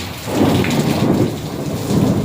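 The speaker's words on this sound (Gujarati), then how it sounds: "જોરદાર વીજળી થાય છે" Heavy unseasonal summer rain falls continuously in a mini storm while low thunder rumbles and rolls in waves, loud and close.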